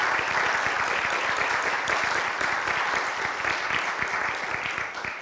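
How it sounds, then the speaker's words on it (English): A crowd applauding steadily, dense continuous clapping that holds at full strength before easing slightly at the end. "Can we give a round of applause"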